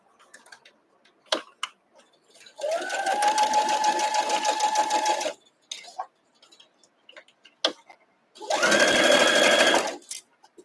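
Sewing machine stitching a Merry Kite quilt block in two steady bursts of rapid mechanical whirring, separated by quiet pauses with small clicks and handling sounds, close up.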